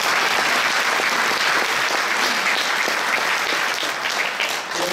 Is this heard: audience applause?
yes